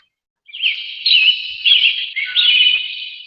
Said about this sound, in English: I hear birds in the background.